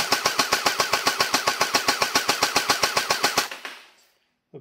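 An MST AK74U gel blaster firing on full auto, a rapid, evenly spaced burst of roughly two dozen loud mechanical pops. The burst stops abruptly, a short motor whir fades out, and one faint click follows.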